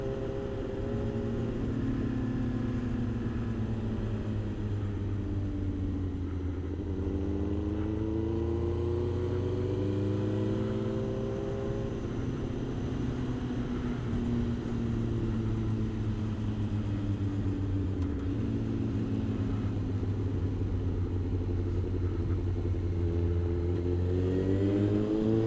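Motorcycle engine on a winding road, a steady drone heard from the rider's position that rises and falls in pitch through gear changes and curves, continuous for the whole stretch with no talk.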